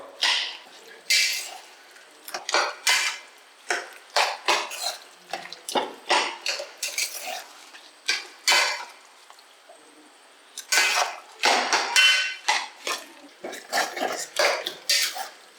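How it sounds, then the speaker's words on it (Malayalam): Cassava biryani is mixed in a pot over a medium flame, with a rapid series of scraping and clattering stirring strokes, fairly close and unaccompanied by talk. "ഒരു മീഡിയം ഫ്ലെയിം വെച്ചിട്ട് മിക്സ് ചെയ്ത് കൊടുക്കാം"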